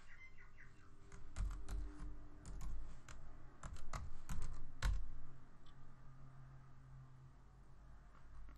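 Quiet clicking of keys typed on a computer keyboard, several short bursts of taps clustered in the middle, with faint background hum and no voices.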